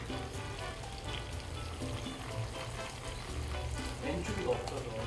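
Garlic shrimp gambas al ajillo cook in oil seasoned with pepper and anchovy, giving a soft, steady, crackling sizzle that holds at a low level throughout.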